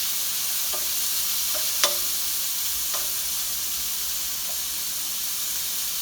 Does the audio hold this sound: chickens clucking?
no